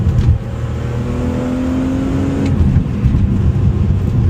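A BMW E46 M3 accelerates on a UK road, its engine droning steadily with rising harmonic tones, loud and close from inside the car, without talk.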